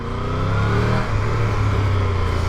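A Triumph Tiger 1200 GT Pro motorcycle engine under way while riding, a loud, close, continuous drone that holds steady with slight swells in pitch.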